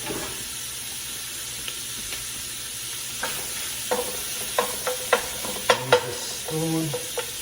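Soft, steady sizzling of sausage frying in a pot for Zuppa Toscana, fat releasing, with scattered clinks and scrapes of stirring growing more frequent, then a short voice.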